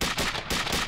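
Gunfire in a Thai TV drama: a loud, close burst of rapid repeated cracks packed into under a second, with no voices over it.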